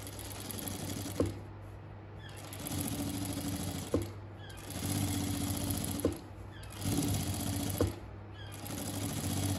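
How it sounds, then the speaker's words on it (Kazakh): Sewing machine stitching a one-centimetre seam on a bag lining, close and fairly quiet, running in four or five steady buzzing bursts separated by brief pauses and small clicks. "Мына 1 сантиметрдей тігіп жатырмын."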